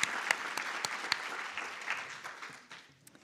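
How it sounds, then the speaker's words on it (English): An audience at an art symposium claps for a few seconds, a moderate burst of applause that thins and fades toward the end. "And Siera, a round of applause."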